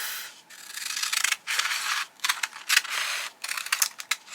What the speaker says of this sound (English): get my big scissors and just cut off